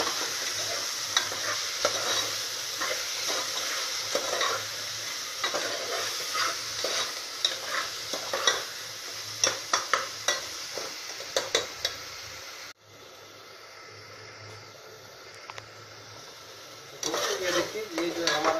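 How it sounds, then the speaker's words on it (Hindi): Spice masala for whole masoor dal is stir-fried on medium heat in a pot: steady sizzling with frequent spoon scrapes and clinks for most of the stretch, then it drops abruptly to near quiet before a brief return of stirring. "ये जो है हमारा जो है मसाला तैयार हो चुका है, और इसको भून लिया है मध्यम आंच में।"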